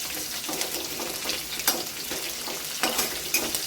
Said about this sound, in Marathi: मिरची पण आपली तेलामध्ये छान अशी परतून झालेली आहे